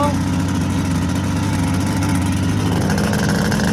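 A car engine that keeps stalling despite fuel getting through, heard as a loud, steady, uneven running drone with no clear cutout, close to the listener.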